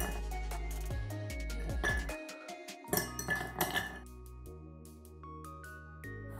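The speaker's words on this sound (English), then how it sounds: "Then we're gonna fill our mixing glass with ice." Ice cubes clink and rattle as they are dropped into a glass cocktail mixing glass while a Sazerac is being made, a burst of crisp clatter followed by scattered lighter clinks.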